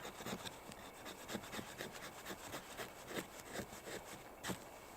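The spine of a Terävä Skrama chopper knife scrapes wood into fine dust in quick, rhythmic rasping strokes, faint and close, with no talk.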